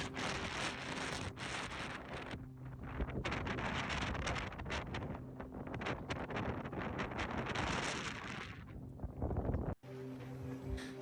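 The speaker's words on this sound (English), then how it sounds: "Look at that, you hear the wind?" Strong wind buffets the microphone in loud, roaring gusts almost continuously, with a brief drop near the end before the rushing returns.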